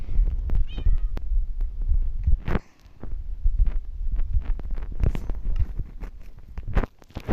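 A cat gives a short meow near the start amid low thumping and rustling handling noises, with no speech.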